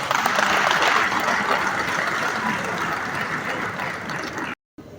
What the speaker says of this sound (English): I think she deserves a bigger round of applause.